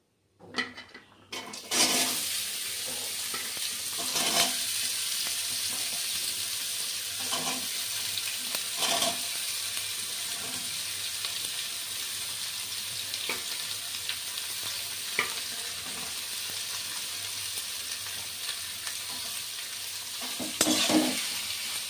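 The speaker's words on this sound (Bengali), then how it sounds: "এবার লাউটা দিয়ে আমি ভালো করে নাড়তে থাকলাম" Bottle gourd stirred in a pan of hot tempered spices, with a steady sizzle and frying hiss throughout and repeated scrapes and knocks of the spoon, close up, no talking.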